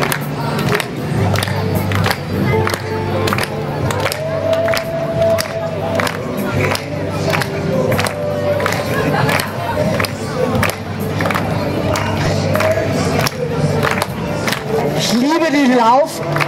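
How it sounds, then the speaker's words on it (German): A lively crowd at a street music festival in Lauf an der Pegnitz, with loud cheering, clapping and rhythmic claps over music, close and continuous, while a voice talks over it. "Es ist so euphorisch, das Publikum."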